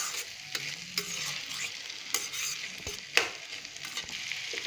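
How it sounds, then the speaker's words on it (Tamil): Potatoes, green peas and carrots sauté in a pan for a vegetable kurma under a steady close sizzle, with several sharp spatula scrapes and stirs spaced through it and no talking. "உருளைக்கிழங்கு, பச்சை பட்டாணி, கேரட் சேர்த்து நல்லா வதக்கி விட்டுக்கோங்க"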